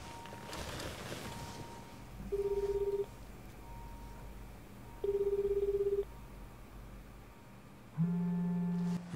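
Phone call in the video game Judgment: a steady tone from the handset, then long ringback tones repeating at intervals over a faint low background hum, with a louder ring at the end.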